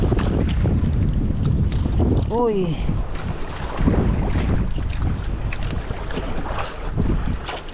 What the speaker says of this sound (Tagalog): Problema mahangin.